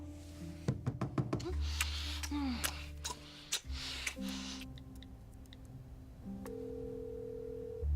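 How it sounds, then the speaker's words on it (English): A mobile phone rings with sustained electronic tones after a burst of ticks and knocks, rising to a new pitch midway and continuing steadily in a quiet room. "It's just my phone."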